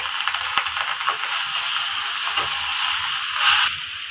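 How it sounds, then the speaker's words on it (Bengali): Gobindobhog rice frying with spices in a pan, a steady close sizzle and hiss with faint stirring scrapes and a brief louder flare near the end, no voices. "এখন মশলার সাথে চালটাকেও একটু ভেজে নেব।"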